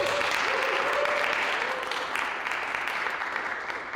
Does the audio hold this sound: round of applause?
yes